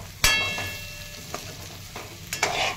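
Masala for stuffed brinjal sizzling and frying in a pan, with a few sharp clinks and scrapes of a spoon stirring against the metal, close and fairly quiet.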